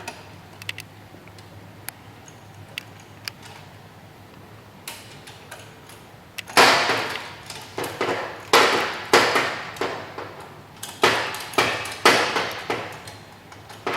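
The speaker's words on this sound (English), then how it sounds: "And then I will tighten these down the rest of the way. Ratchet wrench set up here." A ratchet wrench tightens Yoshimura exhaust bolts on a Yamaha R1. After a quiet stretch of sparse ticks, loud close rapid clicking comes in repeated short strokes with brief pauses between them.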